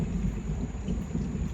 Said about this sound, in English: It's about to rain, so I better hurry up. You hear the thunder?